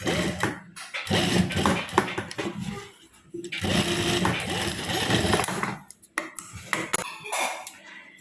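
A sewing machine stitches lace onto buckram in bursts of rapid mechanical clatter, starting and stopping several times, heard close by with a voice speaking in between.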